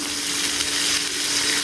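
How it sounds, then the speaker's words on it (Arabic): Breaded chicken breast pieces, coated without egg or breadcrumbs, frying in hot oil, a dense, loud, unbroken sizzle filling the whole short stretch. "هنحمر البانيه يا حبايبي زي ما انتم شايفين بالطريقه دي، ونبدا نقلب قطعه بقطعه كده."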